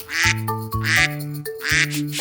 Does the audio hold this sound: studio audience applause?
no